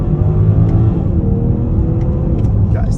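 A 2022 BMW X5 40i pulls away in first gear, its engine note a loud, steady low rumble heard from inside the cabin, building gently with a few faint higher ticks over the top.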